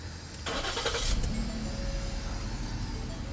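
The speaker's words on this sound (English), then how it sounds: "Let's turn this car on." A 2016 Ford Police Interceptor Utility engine cranks briefly and catches, then settles into a steady close idle, with no talk.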